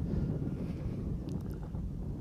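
Rocket engines roaring during ascent at a launch, heard as a steady, distant broadband rumble with wind-like buffeting, with no voices.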